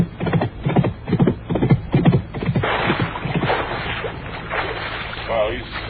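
Clip-clop hoof effects for a horse in a radio comedy set at a swamp meadow, a quick run of close, hollow knocks followed by rustling and scuffling noises, with a voice briefly heard.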